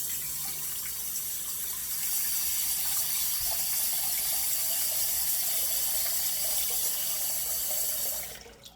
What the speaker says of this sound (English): Get some cold water and put it in the bottom part of your steamer